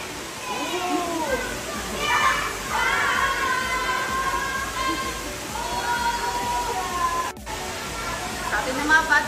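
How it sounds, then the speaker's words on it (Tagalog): Outdoors at Fukuroda Falls, children play and shout excitedly, their high voices rising over the steady hiss of rushing waterfall water, with people talking nearby throughout. "Sabi ng mga bata sa likod ko, isang malakas na yahoo!"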